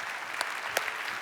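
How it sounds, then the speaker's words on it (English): Brief, faint applause from an audience clapping for volunteers who have just returned to their seats, a soft wash of claps with a couple of sharper hand strikes. "Give them a big round of applause one more time."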